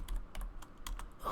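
Quick typing on a computer keyboard during an Ashes of Creation MMORPG session, a short run of close, crisp key clicks in an uneven rhythm, heard alone without speech.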